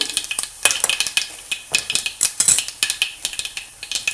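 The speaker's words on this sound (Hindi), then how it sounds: "देखो तेल भी गरम हुआ है। अभी इसमें डालते हैं ये राई।" Mustard seeds crackle and pop in hot oil for a besan dhokla tempering, with a steady run of sharp, close, irregular pops and light clinks. No voices.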